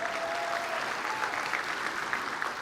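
Steady applause fills a graduation ceremony hall as a crowd claps continuously for top-ranked seniors, a broad dense wash of hand claps with no pauses.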